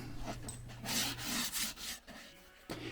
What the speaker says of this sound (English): I lightly sand the edges of the plywood pieces to keep them from splintering when I glue them together.